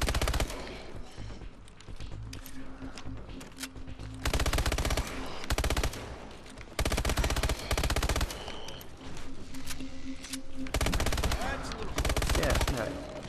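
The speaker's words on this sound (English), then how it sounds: "that's a shotgun, I know that." Gunfire in the video game Call of Duty Advanced Warfare Exo Zombies mode, loud dense bursts of rapid shots in several blocks separated by short gaps, with game sounds filling the pauses.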